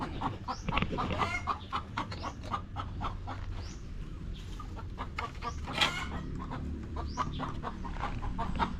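A hen about to lay an egg clucks repeatedly in a busy, uneven stream of short calls, fairly close, with farmyard noise behind.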